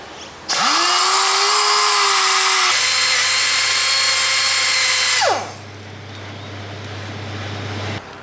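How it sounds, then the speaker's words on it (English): A power drill bores into metal on an abandoned diesel engine, whining up to speed, running steadily at high pitch for several seconds, shifting tone midway, then winding down, leaving a low hum. "Just want to cut that down to a level surface so I can drill it."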